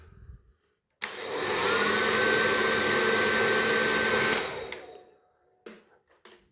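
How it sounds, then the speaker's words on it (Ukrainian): A hair dryer roars at maximum heat and full power for about three and a half seconds, a steady loud broadband whoosh with a faint whine, then cuts off abruptly. "Беремо фен, е, включаємо максимальний нагрів, максимальну потужність."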